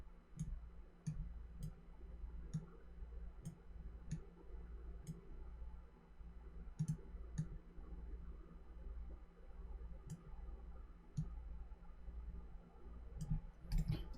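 Quiet, sharp mouse clicks tap out in an irregular sequence while points are edited with a pen tool in design software. Steady low background hum runs underneath, and no one speaks.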